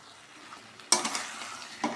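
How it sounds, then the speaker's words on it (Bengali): Young jackfruit and boiled potatoes are stir-fried in spiced oil. After a quiet start, a spoon scrapes the pan and a close sizzle rises, followed by a second brief stir. "এবার আবার এই যে কষতে থাকবো, খুব সুন্দর করে কষতে থাকবো।"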